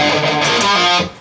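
Distorted electric guitar plays a short riff, with palm-muted picking and a pull-off, heavy and bright, loud and steady before dropping off near the end.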